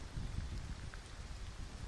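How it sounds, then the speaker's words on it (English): Steady rain falls outside a library, a soft continuous patter with a low rumbling wash underneath, even and unbroken throughout. "You might hear the rain shift slightly as the wind changes direction outside."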